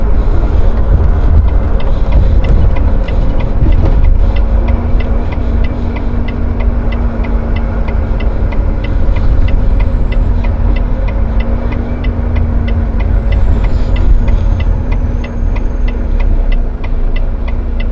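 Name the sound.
vehicles idling in a traffic jam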